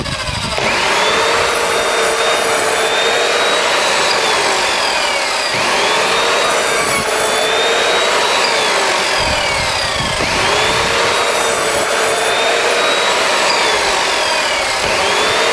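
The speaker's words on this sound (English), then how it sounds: "make a series of vertical cuts all in a line to get to the line on the right" Repeated saw strokes cut a row of vertical kerfs into wood for a notch in greenhouse staging, loud and steady with a brief pause between each of the three or so cutting bursts.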